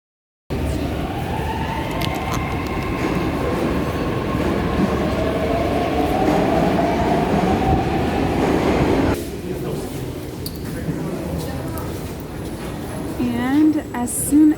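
Metro train riding through a tunnel in Russia, a steady loud rumble of wheels and carriage noise that eases off near the end, with voices talking over it.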